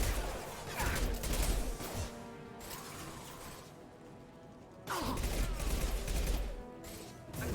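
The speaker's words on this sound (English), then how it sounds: "Who the fuck is shooting at me from behind?" Gunfire from behind in a video game comes as two bursts of rapid shots separated by a quieter stretch of mechanical clatter, moderately loud and close.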